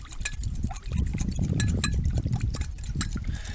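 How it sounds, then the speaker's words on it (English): Cure being stirred into a quarter cup of water for fish jerky, a steady busy swirl of liquid with light clinks against the container, continuous and close throughout. "I take the cure and empty that into a quarter cup of water first, and mix that up until it's dissolved"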